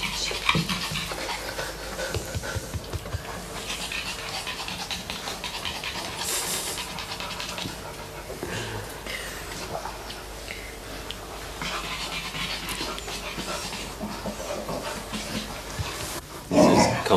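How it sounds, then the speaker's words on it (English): A dog panting and grunting with low growls during play-based socialization training with another dog, close rough breathing and scuffling running throughout, with a louder burst at the end. "Jinty growls in Shogun's presence, a major step forward"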